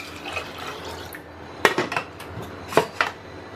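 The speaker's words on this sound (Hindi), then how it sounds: "इसमें चार कप पानी डाल देंगे।" Toor dal is prepared in a pressure cooker: soft water sounds, then several sharp metallic clinks of a pot and utensils near the end, close and fairly loud.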